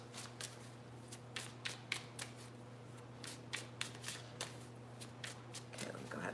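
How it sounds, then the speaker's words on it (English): Tarot cards from a Wayward Dark Tarot deck are shuffled by hand up close, a run of quick crisp riffling bursts in an uneven rhythm over a faint low hum. "let me go ahead and start shuffle"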